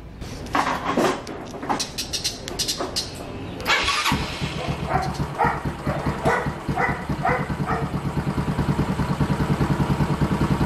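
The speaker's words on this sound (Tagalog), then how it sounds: "Tumatahol pag nag-start yung motor." A motorcycle engine cranks and starts, then runs at a rough steady idle. A dog barks in short bursts throughout, fairly close and loud.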